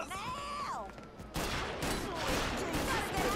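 Police gunfire in Mafia III, a dense burst of rapid shots erupting after a short voice, loud and sustained to the end of the clip.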